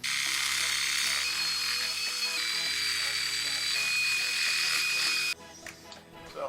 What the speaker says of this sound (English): a skinny little wire brush that clips into a 1/4-inch collet